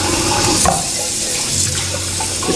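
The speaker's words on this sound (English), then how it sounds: "Just gonna rinse this out real quick." Running tap water pours steadily and loudly into a container being rinsed out in a kitchen sink while cooking dinner, a continuous splashing rush with small sloshes and knocks throughout.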